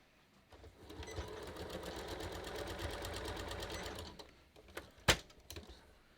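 A sewing machine top stitching the folded edges of fabric for a red heart door banner, running in a rapid, even mechanical chatter for about three seconds, then stopping, followed by a few clicks and a sharp tap nearby.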